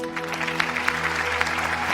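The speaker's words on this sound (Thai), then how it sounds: "ปรบมือครับ" Brief applause from the audience on a Thai TV singing competition show, steady clapping over a sustained musical tone underneath.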